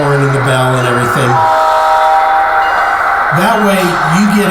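A model train locomotive's sound decoder sounds a steady, loud multi-tone horn for over a second, then someone talks over lower running noise.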